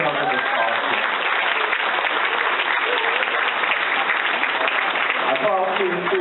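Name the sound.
applause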